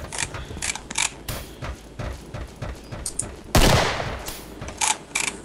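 Gunfire in the co-op shooter game Killing Floor: a rapid scatter of sharp, loud shots and mechanical clacks in irregular bursts, with one long, heavy blast near the end.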